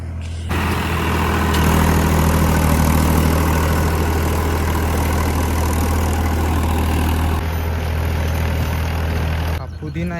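A farm vehicle engine runs steadily in gear, loud and close, with a constant low rumble throughout that drops away briefly near the end.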